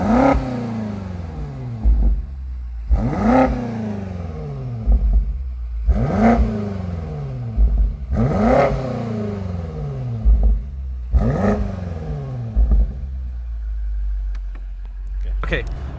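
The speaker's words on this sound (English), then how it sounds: "let's actually listen to the exhaust and experience how this car drives." A 2021 BMW X6M Competition's exhaust roars through five loud, evenly spaced revs, each climbing sharply and falling back to a deep idle rumble between them, close and clear with no talking.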